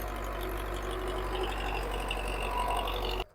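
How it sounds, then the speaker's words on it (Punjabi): A Russian tractor engine with a potato planter attached idles and rumbles continuously close by in a field, a low mechanical drone that cuts off abruptly at the end. "ਤੇ ਰੂਸੀ ਟਰੈਕਟਰ ਹੈ ਤੇ ਮਗਰ ਪਲਾਂਟਰ ਹੈ ਜੀ"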